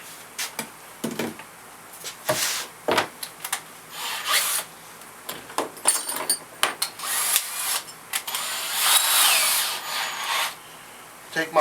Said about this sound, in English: I'm going to come back in on this side with my paddle bit, and then I'm going to kind of countersink where that nut's inside that wood.